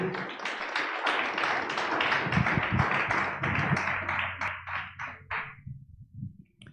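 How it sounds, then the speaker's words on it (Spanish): A church congregation gives a round of applause to the Lord, dense clapping that builds quickly, holds for several seconds, then thins into scattered claps and fades, with voices faintly underneath. "Denle un aplauso al Señor, honre su nombre"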